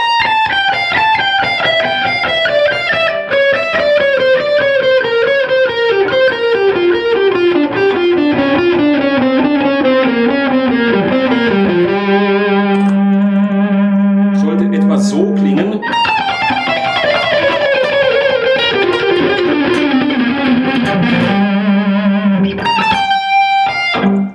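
Distorted electric guitar runs up and down a repeating scale pattern in quick, steady notes, loud and continuous with no talking.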